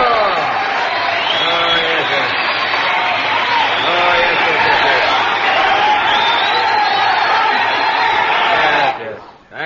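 Broadcast radio comedy studio audience breaks into loud, sustained applause mixed with cheering and whoops, a dense crowd roar holding steady for about nine seconds before cutting off abruptly.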